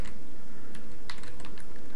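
Fingers type rapidly on a computer keyboard while entering text into an Excel spreadsheet, a dense run of close, crisp key clicks with no talking.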